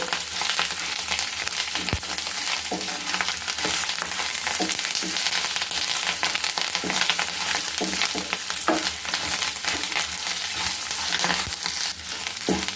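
Curry leaves frying in a pan for a curry leaf powder, a loud continuous sizzle broken by frequent stirring scrapes and crackles, steady throughout with no voices.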